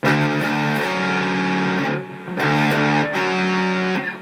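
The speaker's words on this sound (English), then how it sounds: "I've got distortion on, but it's played cleanly" Heavily distorted electric guitar chords ring out loud and sustained, with two short breaks where the chord is re-struck.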